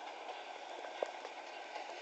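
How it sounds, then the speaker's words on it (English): A steady rumbling roll of a long FEC intermodal stack freight train passing in the Trainz 2006 video game, with faint rhythmic clicks of wheels over the rails throughout. "Boy, this is a long stack train."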